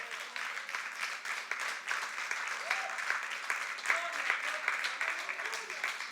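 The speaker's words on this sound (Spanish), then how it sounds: "Dale un aplauso al Señor." Sustained congregational applause at a Spanish-language worship service, steady dense clapping throughout with some voices and cheers mixed in.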